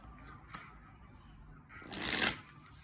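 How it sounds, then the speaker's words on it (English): Cards of a Tarot of a Moon Garden deck being shuffled, a brief soft riffle near the start and a louder, fuller burst of shuffling close by toward the end. "I'm going to go ahead and begin the shuffle."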